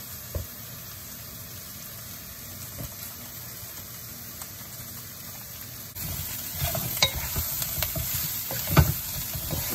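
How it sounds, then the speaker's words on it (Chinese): Salt and pepper pork chops stir-fried with garlic powder in a hot pan, a continuous sizzle with scraping stirring strokes that grow louder and busier midway, nearby and without talking. "然后继续把它炒匀。"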